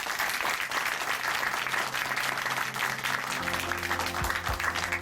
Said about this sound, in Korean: 우리 형제님께 다시 한번 박수 보내드릴게요